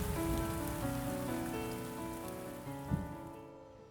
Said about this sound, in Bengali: অবশ্য এখনো হালকা হালকা টিপ টিপ করে বৃষ্টি পড়ছে বটে।